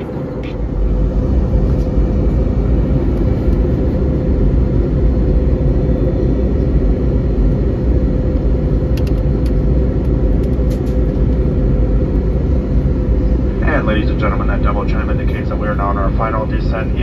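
Steady, loud cabin roar aboard a Frontier Airlines Airbus A320 on final descent into Trenton, a broad continuous engine and airflow rumble with faint chimes or clatter near the end.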